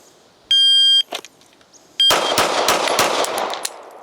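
A handgun fires a rapid burst of shots in a draw-and-fire drill, sharp cracks coming quickly one after another, preceded by an electronic shot-timer beep.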